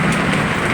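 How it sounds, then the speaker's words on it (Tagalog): Early-morning rain falls outdoors as a dense, steady patter of drops, loud and close, a continuous hiss with no voices. "Naririnig niya yung pagpatak ng ulan."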